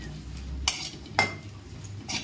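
Grated coconut roasts in a pan while a spoon stirs it, giving three distinct scraping clinks against the metal over a quiet low sizzle.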